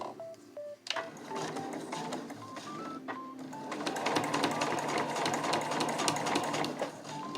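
A sewing machine backstitches on a small fabric key case, starting with a few short, beeping stitch selections and quick starts before settling into a steady, close, continuous whir of stitching.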